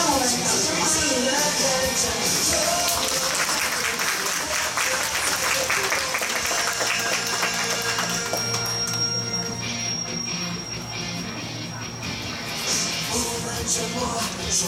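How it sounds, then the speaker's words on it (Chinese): Audience applause at a ninth-grade graduation ceremony, a sustained, fairly loud wash of clapping from a large crowd lasting throughout, with music-like tones and some voices mixed underneath. "让我们掌声欢迎"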